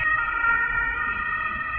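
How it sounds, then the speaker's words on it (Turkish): An emergency vehicle siren sounds in Germany, a steady, sustained high wailing tone that holds throughout, with a low rumble of traffic underneath and no talking. "Yani biz videoya başlayınca da anca böyle sirenler çalardı zaten."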